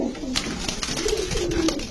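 Nearby pigeons coo in low, rolling calls, several repeated burbles layered over a light background murmur.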